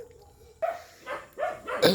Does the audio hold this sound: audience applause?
no